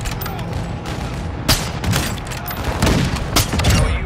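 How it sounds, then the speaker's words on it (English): Mortar strike explosions in the Call of Duty: Modern Warfare II video game make a loud, dense barrage of booms and bursts, with several heavier thumping impacts rolling one after another. "Our mortar strike is inbound."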